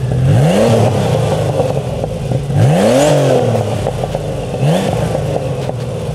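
A Porsche 930 Turbo revs hard through a pull, heard from outside the car: three rising engine sweeps, each climbing in pitch then dropping off with turbo whoosh and mechanical clatter, loud and close throughout.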